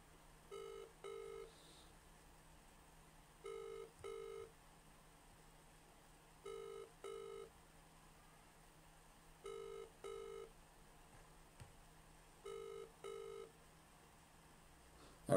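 An outgoing phone call rings out unanswered, with paired double-ring tones repeating at regular intervals of about three seconds over a quiet background line.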